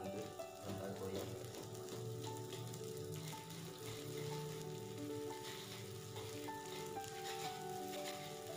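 Water spinach (kangkung) fries with shrimp paste (terasi) in a hot pan, a steady dense sizzle throughout, close and constant, with faint voices in the background.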